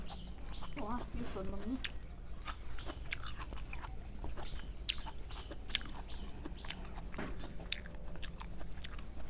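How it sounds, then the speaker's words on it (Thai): Fresh mango being eaten in an orchard, with close crunchy bites and chewing that repeat irregularly, birds chirping faintly in the background and a voice briefly present. "เอาสิมานั่งกินให้เบิ้งสดๆเลยพี่น้อง"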